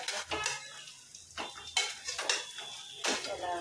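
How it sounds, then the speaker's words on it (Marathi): Ingredients stir and roast in ghee in a kadhai, with a faint sizzle under repeated metallic scrapes and clanks of a spoon against the pan, close by, no voices. "याला भाजून घेते मी चांगलं"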